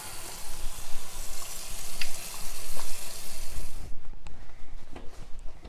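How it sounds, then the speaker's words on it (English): Water from a kitchen tap runs steadily as a nine-year-old girl washes her hands at the sink while baking a Victoria sponge, a loud continuous splashing rush that cuts off near the end, leaving small clinks and quiet handling. "Now you'll need to wash your hands so your germs don't go into your mixture."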